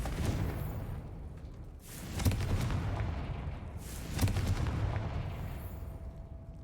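Confringo fire spell blasts in the Hogwarts Legacy video game, two loud booming impacts about two seconds apart over a constant rumbling game background.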